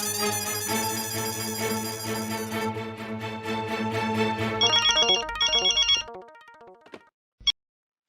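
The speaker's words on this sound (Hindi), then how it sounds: "एक बार फिर मेहता साहब को फोन करता हूँ।" A phone rings with a layered electronic tone that shifts into repeated beeping bursts, then cuts off abruptly into silence and one short click.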